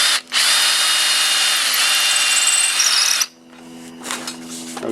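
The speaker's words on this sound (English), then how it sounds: "So I'm going to drill dead center here." A power drill bores dead center through a wooden pick handle, a loud, steady high whine running for about three seconds, then stopping abruptly and leaving quieter handling sounds.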